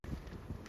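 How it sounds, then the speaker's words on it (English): A brief, blustery gust of wind in an outdoor garden buffets the microphone with a low, rumbling roar, close and steady for a moment. "Mindful it's quite windy."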